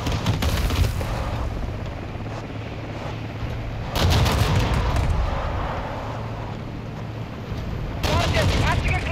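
An APC fires on a squad in Call of Duty: Modern Warfare II, heavy booming bursts landing about every four seconds over a constant roar of battle, loud and close.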